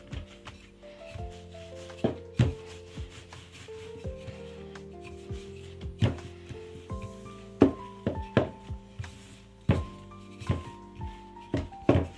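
A knife slices thin cheese breadstick dough, producing scattered sharp taps against a cutting board over soft background music.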